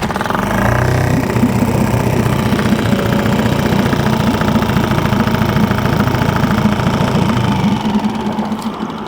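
A gas outboard motor, just pull-started in neutral, runs steadily at a rumbling idle with a faint knocking vibration. It is loud and close throughout, with no talk.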